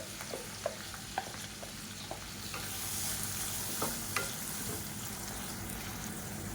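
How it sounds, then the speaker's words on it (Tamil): Chopped onion sautés in a pan for a Tamil side dish, a steady close sizzle with scattered clicks of a spoon stirring and scraping, alone without talk. "இப்போ வெங்காயம் நல்லா வதங்கிடுச்சு"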